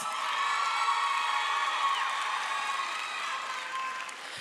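High school commencement audience applauds graduates with sustained, dense clapping and scattered cheers and whoops, steady and full throughout before easing slightly near the end.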